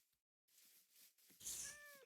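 A cat meows inside the video game Minecraft, one drawn-out meow with rising harmonics near the end, heard alone and fairly close after a short stretch of quiet and soft game ambience.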